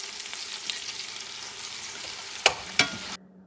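A petite sirloin steak sizzles in a pan with a steady close hiss of frying, broken near the end by two sharp clanks, then cuts off to near silence.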